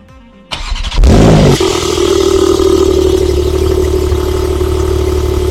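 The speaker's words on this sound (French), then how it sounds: "c'est parti pour le démarrage de cette sport classique" A Porsche 911 Sport Classic engine cranks with a short starter whir, catches with a loud roar and rev flare, then settles into a steady, strong idle close by, with no talking.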